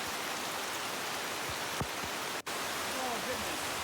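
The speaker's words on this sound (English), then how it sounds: "It's the same one that we already saw though, where it like gets super rainy." Heavy rain pours down in a dense, steady hiss that holds throughout, with faint voices in the background.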